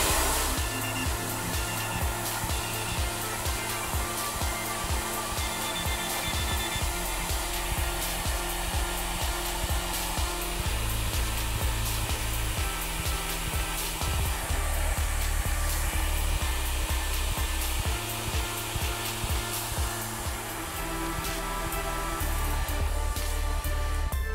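Hair dryer blowing steadily while heating hair for a faux brushing style, a loud continuous whir with shifting pitch as the airflow moves, running without talk.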